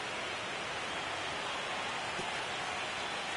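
Rain in the baseball video game MLB The Show 25 makes a constant, even hiss of falling water, heard alone at moderate loudness.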